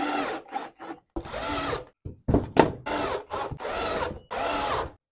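A screw gun drives screws into metal framing for a stepped gypsum drywall ceiling, several loud whirring bursts in quick succession with short pauses between them, close and alone without talk.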